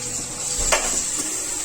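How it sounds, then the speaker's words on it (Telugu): Ginger garlic paste fries with onions in a pan for bagara rice, a faint steady sizzle with a couple of soft spoon scrapes against the pan. "ఇప్పుడు ఈ అల్లం వెల్లుల్లి పేస్ట్ పచ్చి వాసన పోయేంత వరకు వేయించుకుందాం"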